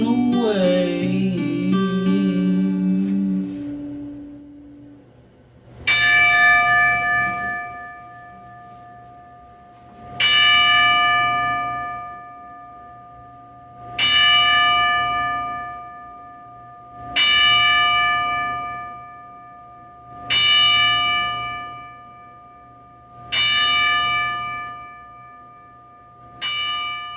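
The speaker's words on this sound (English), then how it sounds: "Here's a 10-bell salute to my brothers that are" A wrestling ten-bell salute sounds as a single bell tolls in slow, evenly spaced strikes, each ringing out and fading before the next, loud and alone after a brief opening tone.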